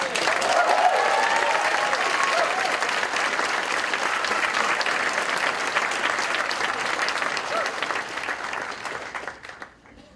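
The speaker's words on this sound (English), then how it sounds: "could we get a big cheer and a round of applause for our graduates?" Applause and cheering from a large audience honouring social sciences graduates at an LIT conferring ceremony in Thurles, a steady dense roar of clapping that holds strongly for about eight seconds before tapering off at the end.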